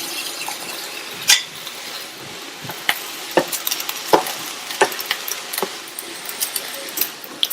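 Cooked rice is mixed with masala carrot in a pan, soft sizzling under repeated sharp clinks and scrapes of a metal spoon against the pan at an uneven rhythm, close and moderately loud.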